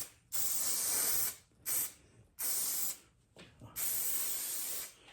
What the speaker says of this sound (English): leaving this on here so you don't spray glue all over the seat